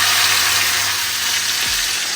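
Hot beef burger patty juices and fat poured back into a frying pan, giving a continuous loud hissing sizzle that holds steady throughout, with a low rumble beneath.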